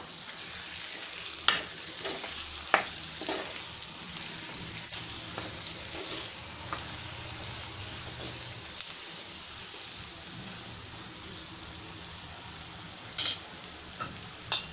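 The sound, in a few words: sautéing masala for stuffed brinjal in a pan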